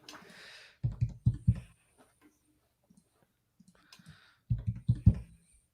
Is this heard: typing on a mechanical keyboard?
yes